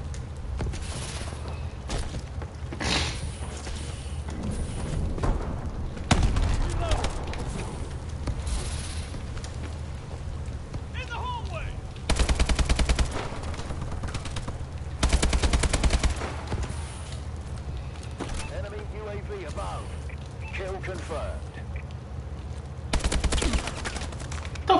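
Rapid video game gunfire from an AK rifle and a submachine gun crackles in repeated bursts during a Kill Confirmed match, loud and close against a steady game background.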